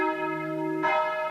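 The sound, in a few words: old church bells ringing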